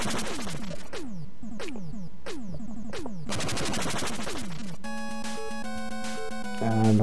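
A Tornado Blow weapon fires in the Mega Man 9 video game: a steady string of sharp, falling electronic zaps about once a second, then a dense rushing burst, and finally bright chiptune tones, with no talking.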